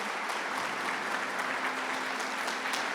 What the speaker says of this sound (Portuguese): Queria que vocês os recebessem com uma salva de palmas